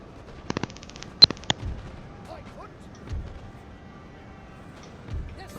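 Napoleonic-era cannons fire in the strategy game Napoleon: Total War: a quick cluster of sharp reports, then a few dull distant booms, with talk running through the battle.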